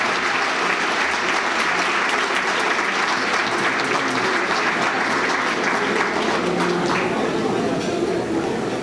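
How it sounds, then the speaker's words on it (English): Sustained, loud crowd applause at a Columbus Day dinner dance, a thick, continuous roar of clapping lasting nearly nine seconds, with some chatter and cheering voices underneath. "Let's give her another round of applause"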